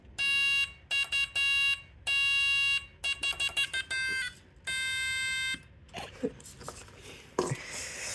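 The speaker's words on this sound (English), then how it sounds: "So it only creates the buzzing sound if we press the button." Homemade Quirkiphone electronic instrument buzzing in short and long bursts as its button is pressed and released, loud and harsh, followed by a few seconds of quieter handling noise.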